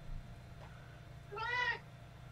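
A single clear cat meow, mid-pitched and rising then falling, lasting about half a second and close by, with a faint background hum and no talking.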